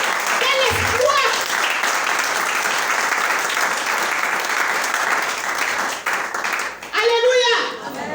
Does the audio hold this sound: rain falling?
no